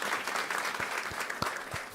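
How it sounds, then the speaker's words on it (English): Audience applause at a state climate and agriculture policy event, a steady wash of many hands clapping throughout, moderately loud with a few sharper individual claps near the end. "Give them a round of applause."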